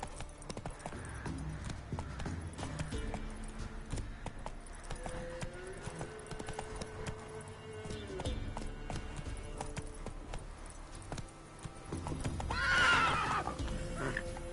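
Horse hooves clip-clop at a steady gallop in The Witcher 3, with a whinny and neigh mixed over game music and ambience; a man briefly urges the horse on, and a louder burst of hoofbeats and noise swells near the end.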